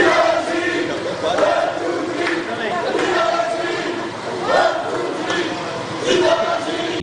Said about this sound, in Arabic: ووقفوا في صف واحد وبصوت واحد يرددون عبارة 1 2 3 فيفا لاجيري